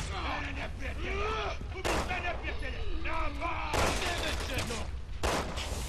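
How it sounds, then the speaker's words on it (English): Gunshots in the video game Resident Evil 6, sharp bursts of fire that break in at intervals, with someone talking through much of it. "Shot him in the head."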